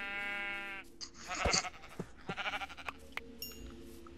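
Sheep in the Minecraft video game let out a clear bleat, followed by scattered blocky in-game clicks and thuds at moderate volume, with no talking over it.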